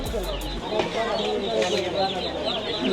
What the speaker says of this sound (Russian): Чувак приехал с курицами.